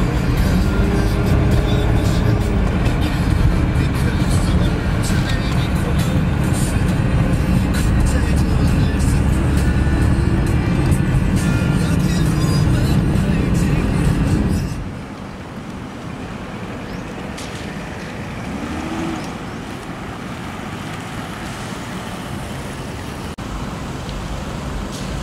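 A BMW E36 325i six-cylinder car drives with a steady low engine and road drone, loud and continuous, then drops suddenly to a quieter hum partway through, with someone speaking throughout.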